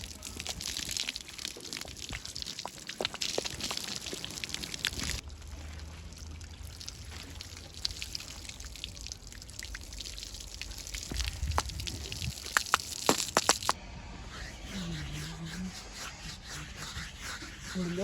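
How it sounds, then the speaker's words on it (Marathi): Water sprayed over a bullock while it is washed for the Bail Pola festival, a rough splashing and pouring hiss coming in stretches, close by, with a few brief voices in the background. "बस पाणी मारतो."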